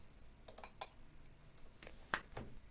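A few scattered key clicks from a computer keyboard as a Wi-Fi password is typed while setting up a TP-Link RE205 Wi-Fi extender, faint and close, with irregular spacing and one slightly louder tap.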